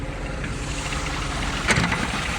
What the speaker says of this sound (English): Exhaust note sounds good.